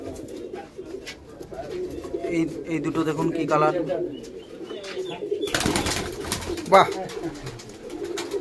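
Pigeons coo in a loft where some sit on eggs, a soft continuous murmur of calls running beneath a man's close speech, with a brief burst of rustling midway.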